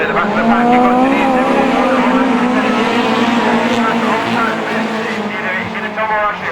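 Autograss race cars at St Neots slide sideways on a dirt track, engines roaring loud and constant with tyre noise, while a commentator talks throughout.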